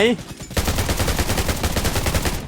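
Rapid automatic gunfire in the video game Undawn, a dense, loud, evenly spaced stream of shots that starts after a short pause and runs without break to the end.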